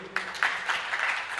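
Audience clapping for a speaker at a Tamil Mattu Pongal festival debate event, a moderately loud wash of hand claps filling the short stretch with steady density.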